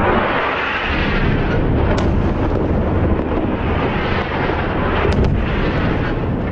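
Bombing with US-supplied weapons in news footage: a heavy, continuous roaring rumble, loud and close, with a couple of slightly sharper bursts near two seconds and toward the end, and no voices.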